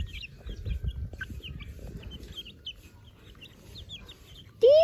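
Chickens of a mixed native breed cluck softly and repeatedly in a farmyard, with scattered bird calls over low rustling, ending in a sudden louder squawk close by.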